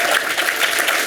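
A crowd at a public event claps steadily, dense sustained applause filling the whole moment with no pauses.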